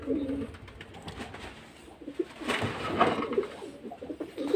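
Breeding pigeons coo repeatedly at close range in their loft, soft throaty calls rising and falling over a light background rustle.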